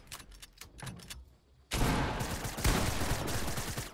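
Gunfire in Fortnite: a few scattered single shots, then a sudden loud, sustained burst of rapid fire that continues to the end, close and dense with no talking.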